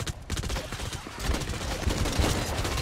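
Rapid gunfire in the online shooter Blacklight: Retribution, a dense run of overlapping close-range shots and bursts that continues for the whole short stretch, loud and busy with no pause between volleys.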